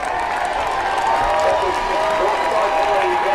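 Bedford high school football crowd and student section cheering and clapping at a game against Manchester Central, a steady, dense roar of applause with scattered shouts throughout.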